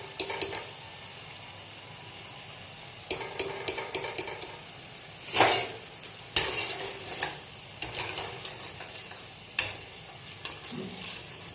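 Potato french fries cook in hot oil with a gentle, continuous sizzle. Occasional utensil clinks and scrapes punctuate it, heard close and moderately loud.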